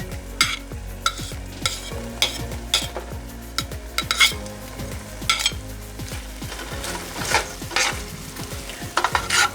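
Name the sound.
onions and garlic frying in a pan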